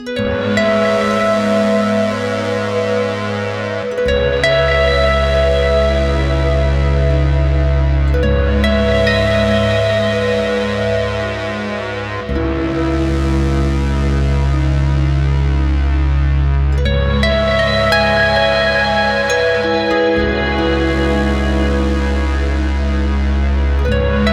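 Plucked harp notes fed through a Meris Enzo X pedal, layered with thick, sustained synth oscillator tones that swell and bloom, loud and continuous, phrases restarting every few seconds.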